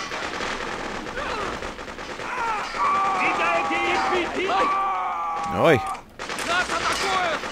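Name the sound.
gunfire in a video game (Freedom Fighter)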